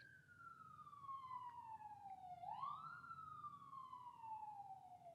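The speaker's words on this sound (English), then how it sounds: "Ignore the sirens in the background." A single wailing siren sweeps slowly down in pitch, then rises and holds, heard at a distance with no voices.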